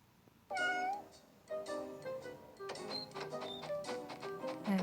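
A cat in a cat escape video game meows repeatedly, several close, clear cries in an uneven series with brief pauses between them, and no voice over them.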